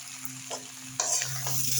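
Spices for a mushroom curry frying in a pan, a continuous sizzle that swells louder halfway through as they are stirred, with light scraping strokes and no talking.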